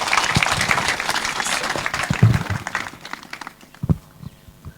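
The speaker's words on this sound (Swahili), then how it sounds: "Situmkaribishe kwa makofi." Audience applause welcoming a guest speaker at a school gathering, a dense burst of clapping that thins out and fades to scattered claps.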